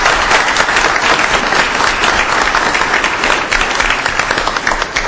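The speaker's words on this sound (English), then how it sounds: "that is worthy of a round of applause because that was really nice." A village board meeting audience breaks into sustained applause, many hands clapping loudly and evenly throughout, a full room sound with no one talking over it.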